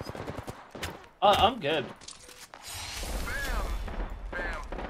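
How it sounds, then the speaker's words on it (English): Rapid gunfire bursts from a battle-royale style video game firefight, loud sharp volleys followed by sustained shooting and rumble, with players talking over the action. "Opening fire."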